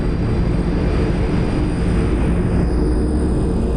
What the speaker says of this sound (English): I love the sound of the turboprops